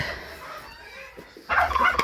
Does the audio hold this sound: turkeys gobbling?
yes